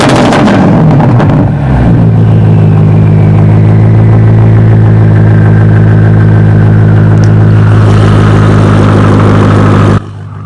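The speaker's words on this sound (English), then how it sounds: "This exhaust sounds insane. Don't believe me? Hear this." A 2023 BMW F90 M5 Competition with an AWE full catback exhaust and downpipes revs loudly and close, a sharp burst of crackles giving way to a deep, sustained engine drone that runs steady for about ten seconds before cutting off.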